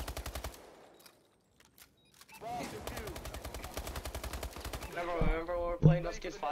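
Gunfire in a first-person shooter video game, with a short burst, a near-silent pause, then sustained rapid automatic fire and a few louder shots under occasional game chatter.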